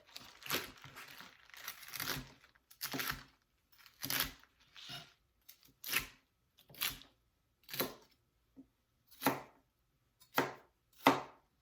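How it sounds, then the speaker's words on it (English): Knife chopping Swiss chard on a cutting board, a series of about a dozen crisp, separate cuts at an irregular, unhurried pace, close and clear with quiet gaps between strokes. "Cut it in half this way. And just chop it."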